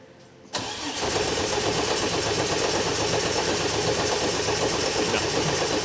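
A turbocharged Barra engine in an R33 Skyline cranks, then briefly fires into a loud, steady, close-up roar that holds without a break, with no voices over it.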